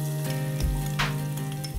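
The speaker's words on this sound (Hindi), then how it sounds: "तेल गरम हो चुका है, इसमें हम कटे हुए प्याज डालेंगे" Chopped onions hitting hot oil for paneer dum biryani in a pressure cooker, a loud close sizzle with a brief burst of stirring, no talk.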